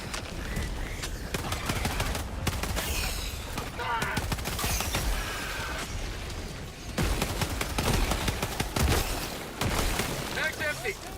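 Rapid bursts of automatic gunfire and heavy booms from the video game Helldivers 2 on its hardest difficulty, loud and continuous, with explosions mixed in and a player talking over the fight.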